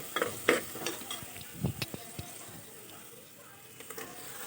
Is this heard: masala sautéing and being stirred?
yes